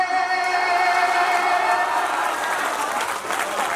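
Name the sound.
audience clapping at poetry recital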